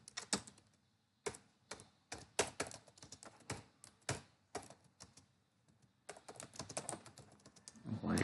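Code is typed on a computer keyboard in rapid bursts of crisp key clicks separated by short pauses, close and fairly quiet, with a louder clatter at the end.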